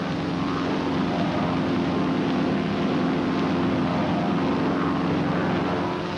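Propeller-driven military airplanes fly in formation on a 1953 US Navy training flight, giving a steady, dense engine drone that holds constant without a break.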